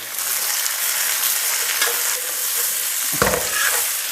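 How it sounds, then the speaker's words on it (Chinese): Chilies and onions are stir-fried in a wok with soybean oil, giving a loud, continuous sizzle with scraping stirs and a brief clatter of the utensil near the end. "辣椒和洋葱放进去炒香"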